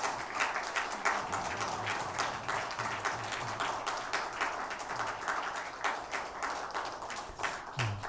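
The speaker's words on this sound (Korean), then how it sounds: "우리 성가대원들을 향해서 감사의 박수 하겠습니다." Church congregation applauding the choir at a New Year's Eve service, a steady wash of many hands clapping throughout, moderately loud and sustained with a faint low hum beneath.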